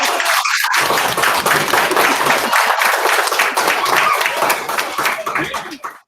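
A group of children at a school assembly claps loudly and continuously for several seconds, dense and close, fading out at the end.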